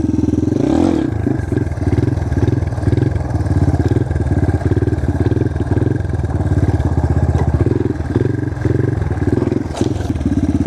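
A dirt bike engine revs hard and steadily while the rider holds a wheelie, its loud mid-pitched drone pulsing with throttle changes throughout, close to the microphone.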